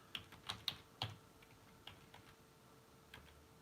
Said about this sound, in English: So I'm just going to type my password in.